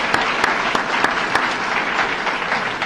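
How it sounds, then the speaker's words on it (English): Audience applause at a hospital nursing awards ceremony honoring top nurses, a steady wash of clapping from a large crowd with a few sharper claps standing out, sustained throughout without talk. "Let's give them a round of applause real quick."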